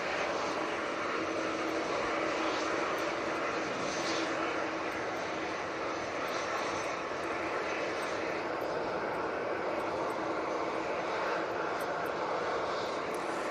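An Airbus A319 from Frankfurt landing on a gusty day: steady, faint, distant jet engine noise that holds throughout, with a voice talking over it.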